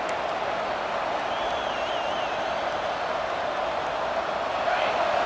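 Steady roar of a stadium crowd during a college football game in EA Sports College Football 26, a continuous broad wash of cheering noise that swells slightly near the end, with whistles faintly audible.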